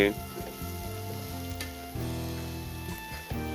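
Fish pieces sizzle in a pan as they are stirred with turmeric and chilli powder for a raw-mango fish curry, a steady close frying hiss with soft scraping and a few stirring knocks, with music running underneath.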